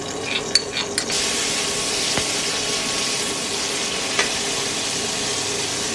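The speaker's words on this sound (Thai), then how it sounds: "ใส่พริกลงไป ผัดพริกให้หอมๆนะคะ" Chilies stir-fried in a hot pan for a vegetarian basil mushroom stir-fry: a steady, close sizzle runs throughout, broken by a few light scrapes and taps from stirring, with no talking.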